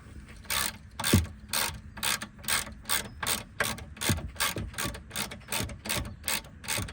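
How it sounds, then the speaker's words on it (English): A socket wrench ratchets during steering rack removal on a Volkswagen Beetle, giving a close, regular run of rapid clicking strokes with brief gaps between them. "Use the socket."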